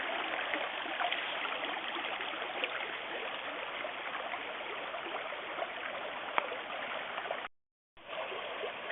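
Farm creek water rushing over rough riffles at a former dam site in Ridgeway, Wisconsin, in November: a steady close babble and hiss of flowing water, continuous apart from a brief dropout near the end.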